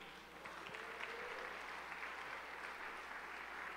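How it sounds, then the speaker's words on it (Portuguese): A church congregation applauds in praise during a Portuguese-language sermon, a steady, sustained wash of clapping from many hands that holds evenly for several seconds with no voices over it. "Você pode aplaudir o Senhor Jesus?"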